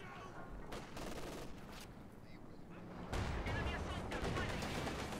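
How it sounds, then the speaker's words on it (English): Mortar fire lands on targets in a tank video game, a rumbling barrage of booms and crackling impacts building to a heavier volley, with talk over it. "good hit by the mortar"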